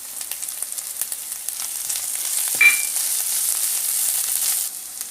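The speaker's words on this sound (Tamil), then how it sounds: "புதினா நல்லா வதங்கிடுச்சு." Mint leaves sautéing in a pan over ginger-garlic paste: a steady, soft sizzle with light stirring scrapes and one brief clink, no voices.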